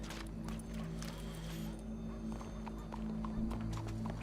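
Horse hooves clip-clopping in the video game Red Dead Redemption 2, a faint, steady plodding that runs under a constant low hum throughout.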